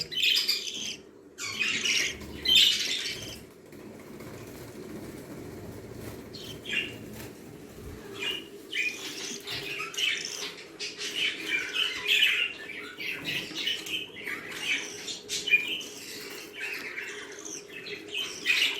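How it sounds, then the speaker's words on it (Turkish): Budgerigar in a nest box flapping and squawking in bursts, with scratchy chirps and wing flutters near and moderately loud, alongside softer bird calls throughout. "Dişi kuşumuz biraz korktu arkadaşlar."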